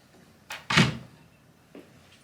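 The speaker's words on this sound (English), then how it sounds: "And take our drawer box off." A drawer box is pulled away from its drawer front: a soft knock, then a louder wooden thunk with a short scrape, and a faint bump near the end, close by in a quiet room.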